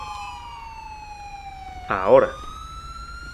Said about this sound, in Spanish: voy a pararle la sirena a este vehículo que me está dejando medio chalado